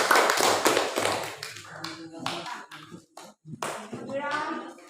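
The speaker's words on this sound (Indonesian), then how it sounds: "tepuk tangan untuk kelompok dua" A classroom group of students claps for group two after their presentation on soil types, a short burst of close, bright hand claps that thins out into scattered taps, with a voice talking over it.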